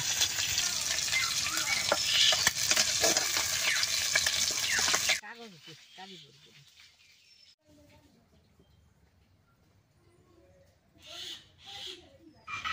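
Small-fish fritters bound with rice flour and pumpkin leaves fry in oil with a loud, dense sizzle for about five seconds. The sizzle then stops, leaving quieter kitchen sounds and a few faint chirps.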